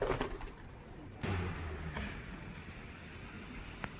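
Wild pigeons cooing outdoors, a few low, soft coos rising briefly over steady ambient noise, with one sharper clack near the end and no talking.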